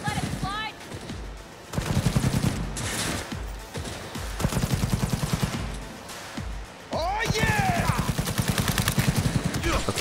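Smart gun fire in Cyberpunk 2077: loud bursts of rapid automatic shots that come in several separate volleys with short gaps between them, mixed with in-game effects and some voices.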